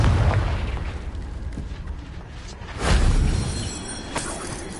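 A Confringo spell blast in Hogwarts Legacy, a loud booming burst around the middle of the clip amid ongoing game effects, with a smaller pop near the end.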